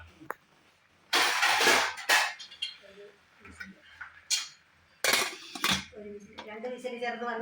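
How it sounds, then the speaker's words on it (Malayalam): A pressure cooker lid is handled and shut over a pot of aviyal, with a few sharp metallic clanks and scrapes between pauses and people talking in the kitchen. "ഇതിങ്ങനെ കുക്കർ അടച്ചു വെക്കുക അല്ലേ"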